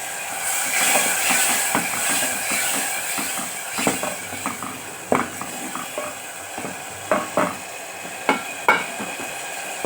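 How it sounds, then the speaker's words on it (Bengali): Cut dried fish sautéed with spices in a pan gives a close, fairly loud sizzle with frequent scraping stirs, turning into sharper, distinct spatula knocks and scrapes against the pan in the second half; no one speaks. "মাছটাকে একটু ভালো করে কষে নেবো বন্ধুরা।"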